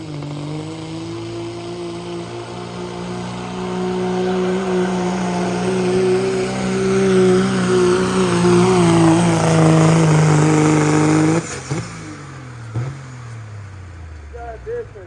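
A pulling truck roars at a truck and tractor pull at Potosi, Wisconsin Catfish Days, its loud engine note sustained and climbing in pitch for about ten seconds before cutting off sharply, leaving faint trailing rumbles.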